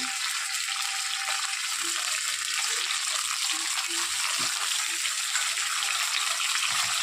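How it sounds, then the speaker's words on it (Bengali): A tomato masala that has nearly melted down fries in a pan as a little water is added, making a dense, even hiss and bubbling that holds loud and constant throughout. "একটু জল দিয়ে দেবো, সামান্য জল দেবো, নাহলে মশলা জ্বলে যাবে।"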